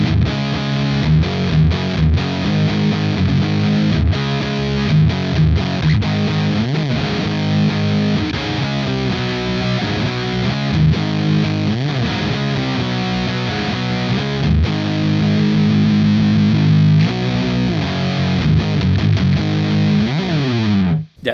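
Heavily distorted electric guitar chugging through a Marshall 1959BJA Billie Joe Armstrong amp with gain maxed, thick and saturated with a sustained low rumble, steady and loud throughout.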